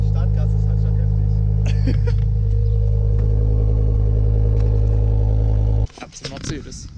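An Audi RS6 engine idles close by, a steady deep rumble holding for nearly six seconds, with people talking over it before the sound cuts off abruptly.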